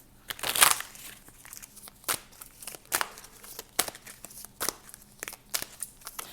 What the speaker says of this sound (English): let's keep pulling some cards here